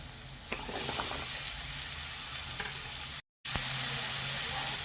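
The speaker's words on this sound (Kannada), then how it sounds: "ಈಗ ಇದಕ್ಕೆ ನಾನು ಹೀರೆಕಾಯನ್ನ ಹಾಕೋತಾ ಇದ್ದೀನಿ." Chopped ridge gourd drops into onions frying in a pan, bringing a steady, close sizzle with a few stirring clanks and one brief cut to silence.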